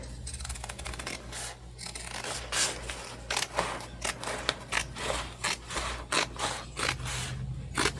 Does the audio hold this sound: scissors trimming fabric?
yes